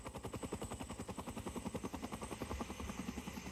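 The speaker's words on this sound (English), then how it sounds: "a helicopter is resupplying a field camp" A helicopter resupplying an Antarctic field camp gives off a rapid, steady rotor thump, loud and fairly close, repeating evenly throughout.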